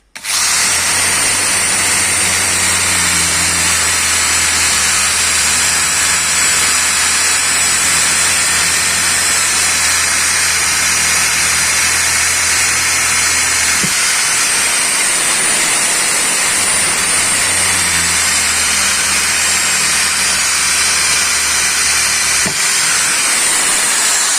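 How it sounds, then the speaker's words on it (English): A Parkside PSBM 750 B2 hammer drill in drill-only mode boring through wood, a loud, steady high-pitched motor whine with a lower grinding hum from the bit that drops out briefly mid-way and then resumes. "It drills through wood very well."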